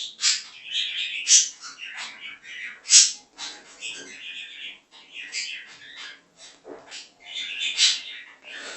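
Pet pigeons coo and flutter close by indoors in a room, a busy cluster of soft throaty calls and rustles rising and falling throughout.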